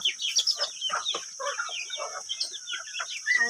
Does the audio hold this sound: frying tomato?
no